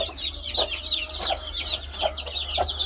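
Young chickens on a farm clucking and peeping continuously before feeding, a busy chorus of high chirps with repeated louder clucks, close by and steady throughout.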